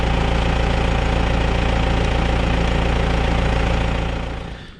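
A John Deere brush cutter engine runs steadily and loud with a constant mechanical drone and vibration, then fades slightly near the end.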